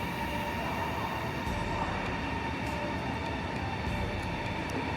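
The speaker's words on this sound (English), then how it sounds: "Okay, so the train is leaving now. Look how long this train is." A long train departing a station rumbles steadily past at close range, a continuous heavy roar with faint rail clatter and occasional high squeaks, no voices.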